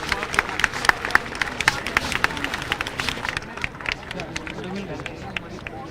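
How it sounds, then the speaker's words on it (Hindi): An audience at a Jharkhand Diwas celebration at the Delhi trade fair claps steadily, a dense patter of many hands that fades toward the end, with a voice talking over the applause. "आप सबकी तरफ से तालियां रुकनी ही नहीं चाहिए।"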